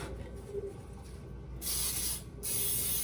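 Cooking oil sprayed onto a flat pan while making Hmong carrot cake: two loud, steady hissing bursts, the first about a second long and the second following after a brief pause, close and clear over quiet room noise.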